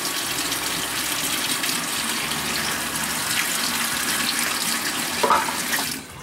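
A cup of water pours steadily into a cooking pot holding a quarter pound of butter, a continuous splashing gush close by that ends abruptly.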